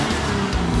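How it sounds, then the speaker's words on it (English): A car engine revs in a short loud burst, a dense roaring rumble that holds throughout with a slight surge near the end. "Rev up your engines!"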